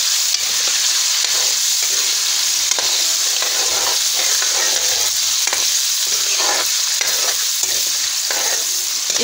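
Boiled mutton, cooked with garlic, frying in a pan for korma, a loud continuous sizzle with the scrape of stirring throughout, close up and without speech.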